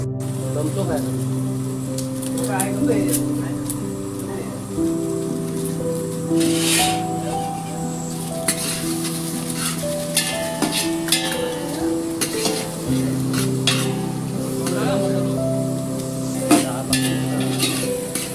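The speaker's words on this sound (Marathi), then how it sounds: "तेल टाकून गजो आता कांदो टाकतास. आता कांदो पूर्णपणे भाजून घेतलो." Onions fry in oil in a pot for a mutton curry at an outdoor farm party, a steady close sizzle with scraping and stirring clatters throughout, while people talk over it.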